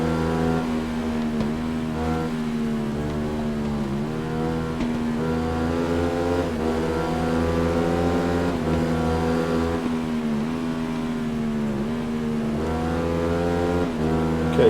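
A motorcycle engine in the racing game Ride 3 revs loud and steady, its harmonic whine repeatedly rising and dropping through gear changes and braking, heard close throughout with no talk.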